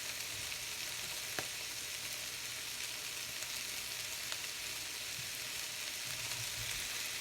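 Moo shu shrimp sizzles and fries steadily in a pan over high heat after a splash of soy sauce, a continuous crackling hiss with a few brief stirring clinks, no talking.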